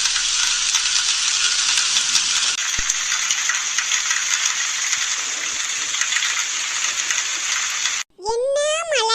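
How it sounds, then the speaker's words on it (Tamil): Heavy rain pours in a dense, steady hiss for about eight seconds, then cuts off abruptly before a voice speaks. "என்ன மழைடா."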